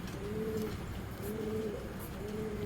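Pigeons cooing among a fancy pigeon collection, soft low rolling coos repeating about every second in a steady rhythm, close by over light background noise.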